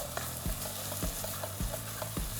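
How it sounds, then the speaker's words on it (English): A tatashe and rodo pepper mix with chopped onions and ground crayfish frying in a pot, with a steady sizzle broken by about four rhythmic stirring scrapes, close and moderately quiet, with no talking. "And you just keep frying"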